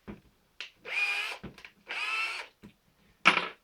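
Vintage 1980s Bosch cordless nickel-cadmium screwdriver whirs up close in three short bursts of roughly half a second each, separated by quiet gaps and small clicks, ending on a brief fourth run.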